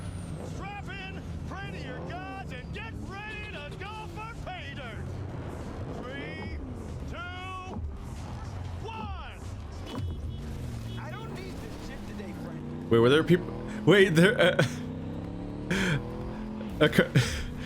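Car driving in Cyberpunk 2077: a steady engine drone and road rumble runs throughout, under talk, with louder bursts of noise near the end.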